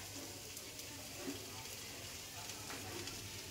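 Chandramukhi potatoes frying with spices in a pan, giving a faint, steady, even sizzle with a few soft stirring touches, heard alone at low level.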